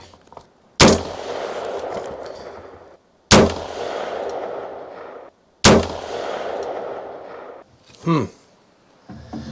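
An AR rifle fires Remington Hog Hammer 62 grain Barnes TSX rounds at a range: three loud, sharp single shots a couple of seconds apart, each with a ringing decay, followed by a short mechanical rattle.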